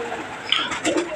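Close pigeon coos from a loft of show birds, a few rolling throaty calls in quick succession with no talking.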